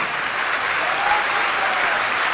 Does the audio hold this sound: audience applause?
yes